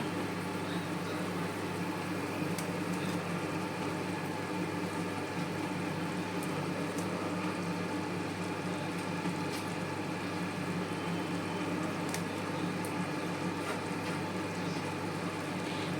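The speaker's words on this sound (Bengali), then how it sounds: "তো এবার আমি ভেন্ডিগুলোকে দিয়ে দিচ্ছি এর মধ্যে" Okra dropped into a pan of boiling gravy, with a steady close bubbling and simmering hiss that holds evenly throughout, no talk.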